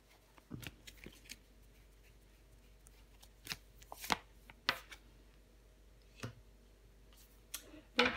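Tarot cards slapped down one at a time onto a table during a reading, several sharp, close, soft taps spaced irregularly over quiet background.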